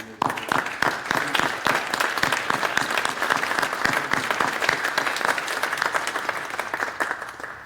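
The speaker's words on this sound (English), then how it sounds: "I'd like everyone in here to applaud for Ahmad and you, Mr. Gacha, for this." Conference audience breaks into sustained applause, dense overlapping claps holding steady and loud for several seconds with no speech on top.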